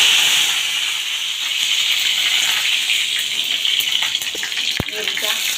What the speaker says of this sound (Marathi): कढीपत्ता फोडणीला।